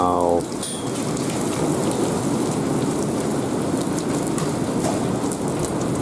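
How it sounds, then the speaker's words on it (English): Heavy thunderstorm rain pours steadily and loudly from start to finish, a dense continuous hiss and patter with deep rumbling thunder underneath; a brief tonal sound opens the clip before the downpour dominates. "Right, we're definitely in a storm."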